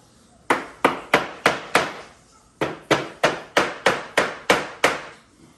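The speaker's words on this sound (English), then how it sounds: "So that was a light tap." A rubber mallet taps a clamped wooden part of a used dining set with light, sharp knocks. There are two close runs of evenly spaced blows, five and then seven, with a short pause between them and no talking.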